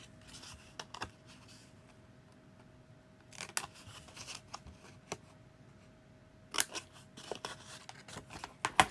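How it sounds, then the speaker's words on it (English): Sharp scissors snip paper corners in a quiet room, several crisp isolated cuts spaced irregularly with faint handling rustle between them. "I like to go in and cut the little corners out, like right here. Just like to snip those out so it folds easier."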